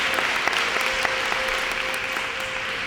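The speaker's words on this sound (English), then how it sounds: "you have to give yourselves a big round of applause" A group of girls at a tryout clap for themselves, a moderate, even wash of applause with scattered sharper individual claps, while a faint steady tone hums beneath.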